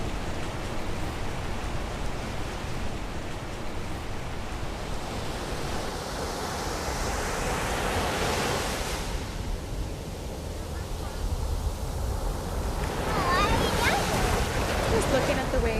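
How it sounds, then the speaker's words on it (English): Ocean waves surge and wash continuously, a broad hissing roar that swells and recedes over several seconds, heard close and fairly loud with wind buffeting the microphone. "Looking at the waves."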